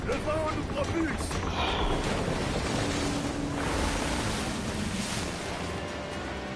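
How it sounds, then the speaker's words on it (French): Wind and crashing waves surround a sailing ship at sea in Assassin's Creed Black Flag, a steady loud broadband roar of surf and gusts with a voice talking over it throughout. "Le vent nous propulse."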